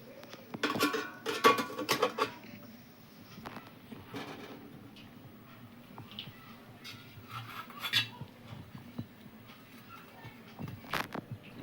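Metal idli plates clink and scrape against a metal steamer pot in several short bursts, close by, with quiet pauses between placements.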